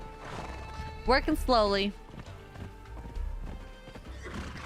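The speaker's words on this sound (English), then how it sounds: "Thank God for the horse." A horse in the video game Conan Exiles gives a loud, close whinny over steady clip-clopping hooves, while someone talks briefly in the game soundscape.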